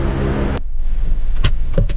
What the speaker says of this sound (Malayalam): ഇപ്പം വണ്ടി സി എൻ ജിയിലാണ് കേട്ടോ അപ്പം നമുക്ക് എടുത്തു നോക്കാം